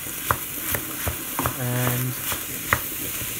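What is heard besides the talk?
minced meat browning, broken up with a wooden spoon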